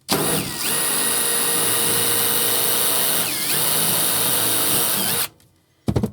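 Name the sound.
power drill pre-drilling holes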